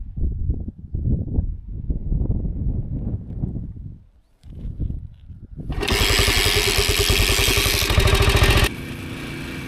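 A 50-year-old classic motorcycle gets a few low, uneven turnover sounds before the engine catches and settles into a loud, steady, close-up idle with a rapid putter.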